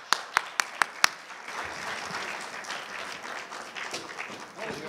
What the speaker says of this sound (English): Ladies and gentlemen, could you please have a round of applause for Dr. David Cash?